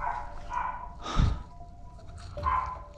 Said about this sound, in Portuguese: Olha o cachorro da vizinha.